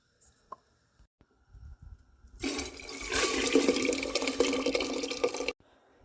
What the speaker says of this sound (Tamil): இந்த அரிசியை நல்லா வடிவாக கழுவி தண்ணி ஒதுக்கி வச்சுக்கணும்.